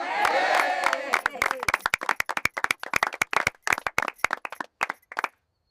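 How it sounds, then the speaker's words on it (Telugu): Villagers clap in a story scene; a voice speaks briefly first, then sharp, distinct handclaps follow in quick, uneven bursts, close and crisp, before stopping abruptly. "గ్రామ ప్రజలు మళ్లీ చప్పట్లు కొట్టారు."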